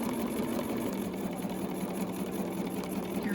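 A home sewing machine running steadily through free-motion quilting of a ribbon candy ruler design, its motor humming in an even, continuous drone with a fast stitching rattle, close and moderately loud, with no voices.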